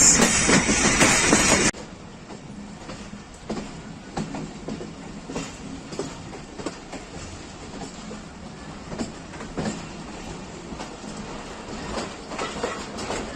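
The Pakistan Express passenger train, arriving from Faisalabad, rolls into the Rawalpindi railway yard with a loud rushing burst at first, then a steady rhythmic clickety-clack of wheels over rail joints.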